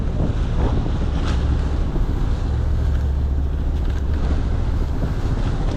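Waves breaking along a shoreline in the Philippines, a loud steady wash of surf mixed with strong wind buffeting the microphone, continuous throughout with no voices.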